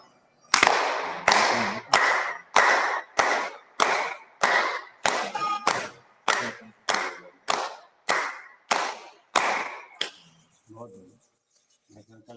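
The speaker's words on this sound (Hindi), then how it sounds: "सभी जनों को अभिवादन के साथ तालियां बजा लें 15 बार।" A yoga group claps in unison, a steady series of about twenty sharp, loud, evenly spaced claps roughly twice per second, followed by a brief quiet voice as the clapping stops.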